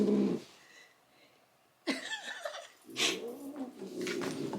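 An angry, overweight house cat yowls and growls in loud, drawn-out wails close to the listener. A short cry comes first, then a quiet pause, then repeated rising and falling caterwauls.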